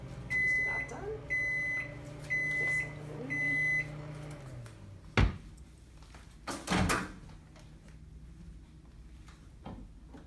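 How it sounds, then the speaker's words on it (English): A microwave oven cooking sweet potatoes finishes with four evenly spaced beeps, followed by a low hum and a couple of sharp clunks as the door is opened, all close by and with no one talking. "So our sweet potatoes finishing up in the microwave."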